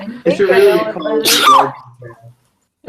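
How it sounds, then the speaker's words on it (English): A sharp, high-pitched sneeze bursts out close by amid people's overlapping talk, brief and loud before the voices trail off into silence. "That was a cute sneeze."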